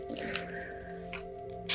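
Quiet rustles and small clicks, then a sharp hissing spritz of moon water from a spray bottle right at the end, close and brief.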